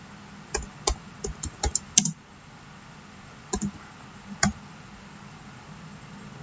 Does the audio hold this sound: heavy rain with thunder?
no